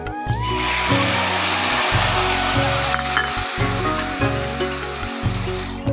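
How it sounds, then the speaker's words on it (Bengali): Taro pieces frying in leftover fish-frying oil with five-spice seeds, a loud continuous sizzle and hiss over a low rhythmic background hum. "এই মাছ ভাজার তেলে আমি 5 ফোড়ন দিয়ে কাটি কচুটা ভেজে নেব।"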